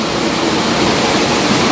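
Water of the Cimanuk River rushes beneath a bridge in Garut on a misty morning, a steady, loud, broadband roar that holds unbroken throughout with no voices.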